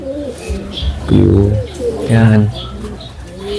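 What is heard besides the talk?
pigeons cooing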